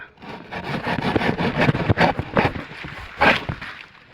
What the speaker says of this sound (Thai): เลื่อยอย่างนี้